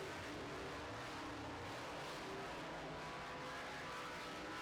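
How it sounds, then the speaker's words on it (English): Late model race cars roar around the turns of a dirt track in a steady, dense engine drone that stays loud and unbroken, with no voices over it. "You can see those cars sliding up in the turns just a little bit."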